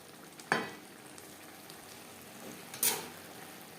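Spice mixture stirred in a pan on a gas stove for a vegetarian cabbage curry, a soft steady sizzle broken by two distinct scraping stirs, close and fairly quiet.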